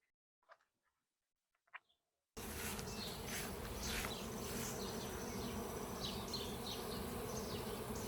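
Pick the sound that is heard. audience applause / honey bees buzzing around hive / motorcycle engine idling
honey bees buzzing around hive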